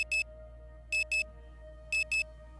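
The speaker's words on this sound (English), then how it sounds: "You then start to feel a strange beeping coming from the control panels" Electronic beeping sounds in quick pairs, three double-beeps evenly spaced, sharp and high-pitched over a steady low electrical hum.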